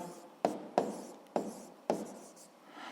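Chalk or pen taps and scratches out a physics calculation on a board, four sharp strokes in an uneven rhythm, close and clear with no talk.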